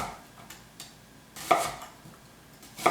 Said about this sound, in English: so we'll thinly slice the onion